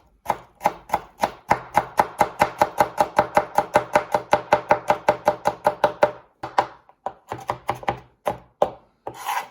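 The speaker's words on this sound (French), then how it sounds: "nous allons passer à la découpe de l'échalote et du branche de céleri en petits morceaux" Knife finely chopping shallots and celery on a cutting board, a rapid, even run of crisp close taps that slows into slower, irregular cuts near the end, with no talk.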